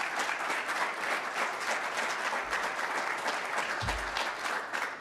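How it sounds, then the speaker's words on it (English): Audience applause at a Family First 5th anniversary celebration, a dense steady wash of many hands clapping throughout, fairly loud and with no voices over it. "let's give them all a big round of applause"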